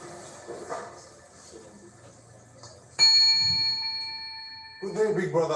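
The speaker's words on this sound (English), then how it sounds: "Your 3 minutes will begin at the ding of the bell." A single clear bell ding rings out with a sustained metallic tone that slowly decays, preceded by faint background murmuring and followed by voices.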